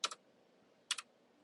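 Two short bursts of computer keyboard typing, each a quick pair of clicks, about a second apart and quiet against a still room.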